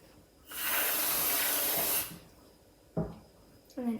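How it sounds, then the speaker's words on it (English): Whipped cream sprays from an aerosol can onto the top of a salted caramel Frostino in one steady, loud hiss lasting about a second and a half, followed by a short clunk and a faint rattle. "You want to get your spray cream and just spray some on the top,"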